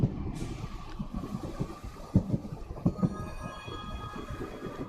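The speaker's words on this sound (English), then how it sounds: "Train's coming." Rumbling train rolling into a platform in the video game Duet Night Abyss, with steady low clatter, wheel thumps and a hissing start, loud and close with no talk over it.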